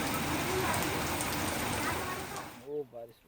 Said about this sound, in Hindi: इस समय तो पड़ रही है बारिश।